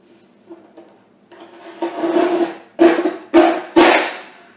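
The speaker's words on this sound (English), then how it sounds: "This thing has to work really hard to get this chipboard cut." Crafting cutter forcing its way through chipboard for a mini album, building from faint scraping into several loud, strained grinding bursts in short repeated strokes, close up with no talking.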